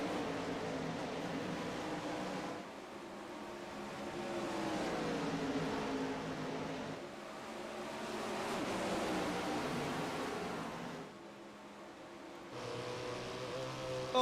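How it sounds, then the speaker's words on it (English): A field of sprint cars roars off at the start of a dirt track race, a dense, continuous engine din that swells and dips over about fourteen seconds at moderate loudness. "We're going to let you hear these sprint cars roar."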